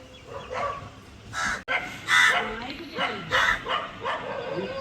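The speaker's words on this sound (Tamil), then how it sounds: "காகம்" Crows caw in repeated harsh bursts near a house site in Tamil Nadu, mixed with dog barks and heard alongside a person talking.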